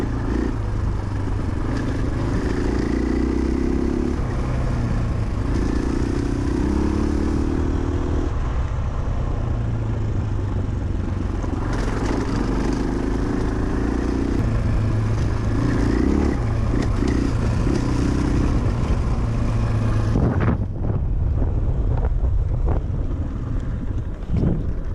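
A 2022 Husqvarna FE501S rides a dirt trail on the Palomar Divide Truck Trail. Its engine gives a steady close drone under heavy wind buffeting, then falls away abruptly near the end.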